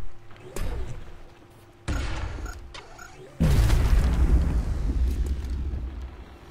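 Grenade launcher blast in XCOM: Enemy Within, several deep booming impacts building to a loud final explosion with a long rumbling tail, up close with no talk over it.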